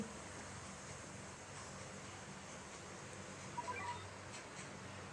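A cat meows briefly at mid-volume, a couple of short tonal calls heard over a steady, hissy background noise with no speech.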